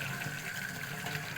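Water runs steadily into a kitchen sink, a faint, continuous hiss and splash with no talking.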